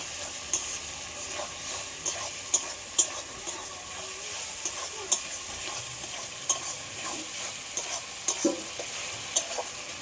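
Country chicken sautés with cumin powder and spices in a pan, a moderate continuous sizzle broken by frequent light spatula clicks and taps against the metal, close and without any voices.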